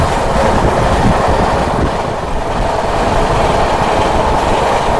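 Kashi Express rushes past during a crossing with the Mumbai LTT Express, a loud, continuous rail roar and rumble with faint clatter and wind buffeting, heard close up for the whole stretch.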